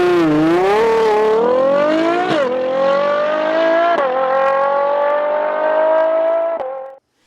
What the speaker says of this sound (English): the kind of high-revving combustion character that only a naturally aspirated 12-cylinder can deliver